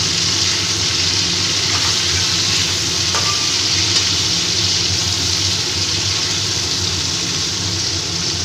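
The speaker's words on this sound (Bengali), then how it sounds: "এবার মাছগুলোকে হালকা করে আমি একদম ভেজে নেব।" Hilsa fish pieces shallow-frying in hot oil, a steady, close sizzle that runs evenly throughout with faint clinks of a utensil now and then.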